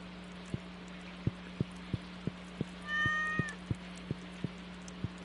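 A single short meow from a cat in Stardew Valley rises over a steady hum and regularly spaced soft clicks, quiet and alone.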